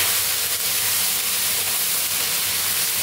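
Ginger garlic paste fries in a hot pan with onion for a fish curry, giving a steady, loud broadband sizzle and hiss that runs unbroken throughout with no talking.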